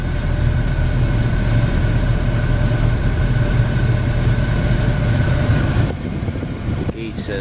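Dually pickup truck idling slowly with its air conditioning running, a steady low engine drone and fan hum close by that carries on evenly, dropping slightly near the end.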